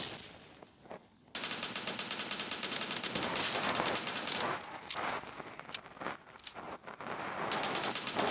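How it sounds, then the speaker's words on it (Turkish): Rapid automatic gunfire from a Counter-Strike-like video game rattles in long, dense bursts with brief gaps, loud and close, with no talking. "Evet vuruyorum arkadaşlar. Onu da öldürdüm."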